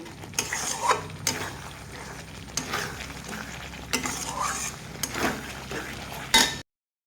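Paneer pieces are turned in a pan of sizzling spice masala. A utensil scrapes and clinks against the pan in uneven strokes, and the sound stops abruptly near the end.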